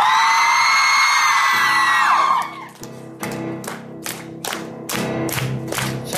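A concert crowd at an intimate fireplace-style show yells and whoops loudly together, then the shouting gives way to rhythmic clapping and scattered cheers, all close and dense with no single voice standing out.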